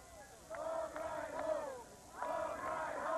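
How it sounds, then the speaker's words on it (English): Crowd chanting at a 1997 college football game between Monmouth College and Knox College, rhythmic massed voices rising in several swells across the stands, moderately distant and sustained. "And you hear the crowd chanting"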